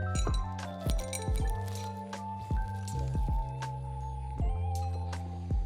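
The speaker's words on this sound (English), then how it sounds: "I'm just going to use a spoon to scrape it all out" A metal spoon scrapes the seeds and stringy flesh from the center of a pumpkin, with repeated wet squishes and light clinks close by over a steady tonal background.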